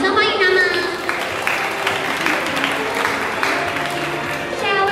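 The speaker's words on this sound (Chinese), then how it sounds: "我们掌声欢迎他们。" An audience at an anime dance competition claps to welcome the judges, a brief moderate burst of applause mixed with a voice speaking over it.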